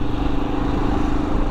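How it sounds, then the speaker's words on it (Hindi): A Royal Enfield Himalayan motorcycle rides at night, its engine giving a steady, loud, close thrum with a fast pulsing beat and wind rush over it. "बाइक बहुत ज़्यादा ही अच्छी चल रही है मेरी"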